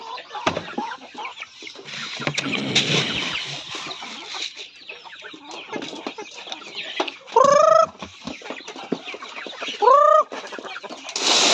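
Native chickens, including laying hens, cluck near and loud, with two sharp rising squawks standing out over soft rustling and background farmyard noise.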